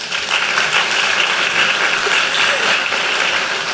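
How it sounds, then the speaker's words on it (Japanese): Loud, steady applause from a conference audience after a talk on implementing an increment operator, a continuous dense wash of clapping with no voices over it. "たくさん拍手をいただけてすごい嬉しい"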